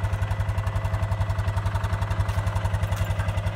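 A Kawasaki Mule utility vehicle in four-wheel drive chugs through farm mud, its engine giving a close, steady, rapid pulsing throb with a clattery edge.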